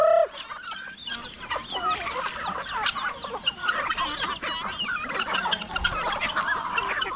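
Chickens cluck and chicks peep in a busy, continuous chorus close by, with overlapping high chirps and occasional louder clucks and no speech.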